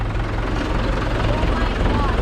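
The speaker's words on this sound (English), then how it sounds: "Guys, the tractor is going into the field." A tractor engine runs on a farm field in Andhra, India, a steady low diesel rumble with a chugging throb that stays loud throughout while people talk nearby.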